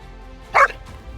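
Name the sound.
dog barking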